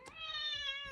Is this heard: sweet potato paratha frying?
no